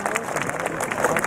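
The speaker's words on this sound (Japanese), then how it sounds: "皆様大きな拍手をお願いいたします。" A crowd applauds after an interview with a winning jockey at the Oka Sho horse race, brief dense clapping with a bit of crowd murmur underneath.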